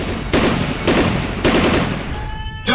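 Gunfire effect: several loud, sharp bursts of shots in quick succession, each ringing out briefly before the next volley, close and alone with no talk.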